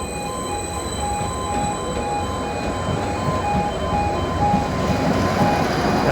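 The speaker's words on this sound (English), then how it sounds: "Lovely train." A train passes by a railway crossing, a steady rumbling roll with wheel and rail noise, close and constant, accompanied by a high ringing crossing tone repeating in short pulses; no one speaks.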